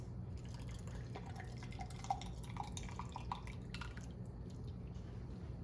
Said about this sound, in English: we're going to fill the jars, and we wanna fill to 1 inch headspace